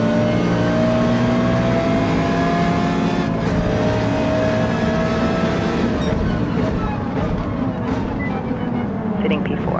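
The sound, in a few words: Audi R8 Evo GT3 race car accelerating, racing video game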